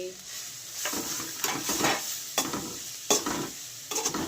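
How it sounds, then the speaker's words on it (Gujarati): Carrots being stirred while frying in ghee for carrot halwa, a steady close sizzle with repeated scraping stirs, no talking. "ફ્રાય કરતા રહીશું ધીરે ધીરે ઘીમાં ગાજર પડે એટલે ગાજરનો કલર બદલાઈ જાય"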